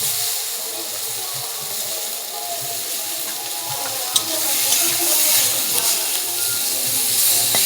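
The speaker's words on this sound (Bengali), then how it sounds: "এবার বেগুন দিয়ে দিব কড়াইতে, বেগুনগুলো ভেজে নেব লাল লাল করে।" Eggplant pieces frying in a wok of hot oil give a steady, close hiss and sizzle with small crackles, no talk over it.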